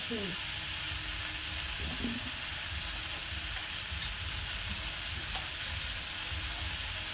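Spices sautéing in ghee in a pan give a steady, close sizzle and crackle that runs unbroken throughout, with a few faint stirring touches.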